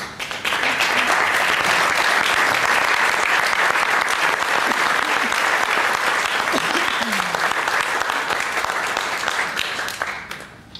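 Sustained, loud applause from a large audience, dense clapping continuing evenly before tapering off at the end.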